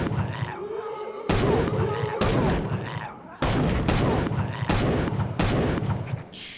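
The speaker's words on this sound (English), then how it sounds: "We're gonna use a pistol now." Pistol shots in a quickly made shooter video game, a series of loud sharp cracks at irregular intervals, each with a short rumbling tail, over a steady background.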